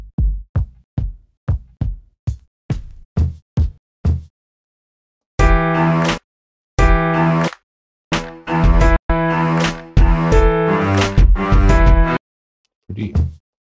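A kick drum sample in FL Studio, played first as a quick run of short, punchy, evenly spaced hits, then as longer sustained bursts in a beat pattern, loud and dry with no talking.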